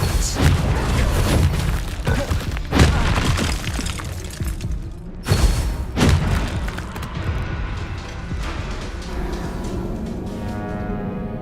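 Spell explosions from the Confringo curse in Hogwarts Legacy, a loud run of heavy booms and shattering blasts, with a sharp burst near the start, another around the middle, then a rumbling tail that fades.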